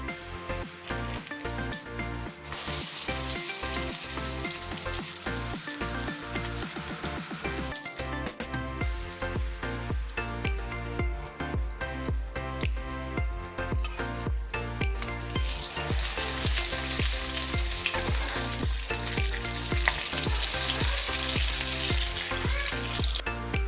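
Spicy hash brown frying in a pan as it is flipped to cook the other side, a loud continuous sizzle with scraping and rubbing sounds over steady background music.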